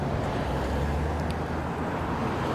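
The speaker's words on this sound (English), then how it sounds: "A little windy up here, but not bad." Steady low rumble of wind buffeting outdoors, constant and fairly loud, with no voices.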